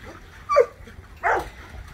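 A dog whimpers and lets out short yelping barks, two brief close cries about a second apart against a quiet background.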